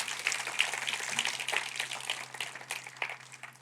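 Congregation applause during a church service, a faint, steady wash of clapping from a distant crowd that carries through without a break.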